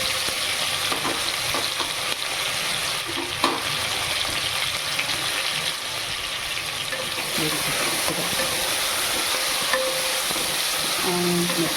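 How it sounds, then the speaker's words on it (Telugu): Two medium onions, a tomato and five chillies frying in ghee in a stainless steel pan, giving a steady dense sizzle throughout with occasional stirring scrapes and faint kitchen clatter. "ఇందులో ఆనియన్స్, ఒక 2 medium size onions, 1 tomato and 5 chillies వేసుకున్నానండి"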